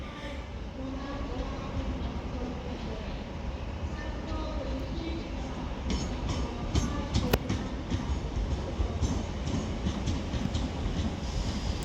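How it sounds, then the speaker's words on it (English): A Class 769 train pulls into a platform at Manchester Oxford Road, a steady, close rumble with rhythmic wheel clatter and brief metallic squeals that build louder toward the end. "this 769 is actually coming on platform 3"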